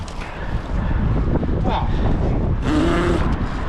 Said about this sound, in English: Bloody wind starts blowing,